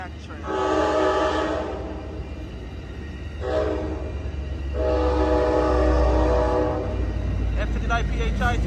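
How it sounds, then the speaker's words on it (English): An Amtrak San Joaquin passenger train horn sounds in long blasts, a short blast, then another long one, loud and near over the heavy rumble of the train passing Oakland Jack London Square station. "here comes Amtrak San Joaquin bound train 716"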